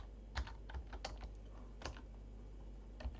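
Typing on a computer keyboard while editing in DaVinci Resolve 17, soft close key clicks in an irregular rhythm with a few sharper taps, quiet and alone.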